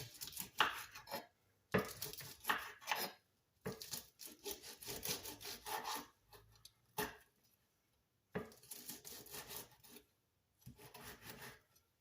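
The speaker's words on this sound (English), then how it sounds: "I have real bacon, so I just cooked it this morning. So I'm just going to chop this up." Cooked bacon chopped with a knife on a wooden board, close and moderately loud, in bursts of rapid scraping, rocking cuts separated by short pauses, with no talking.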